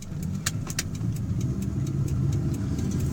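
A 1984 Toyota Camry running during a test drive, a steady low engine rumble with light rhythmic ticking on top, close and continuous with no talking.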